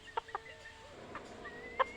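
Free-range domestic desi chickens cluck a few short, quiet times, with soft background noise in between.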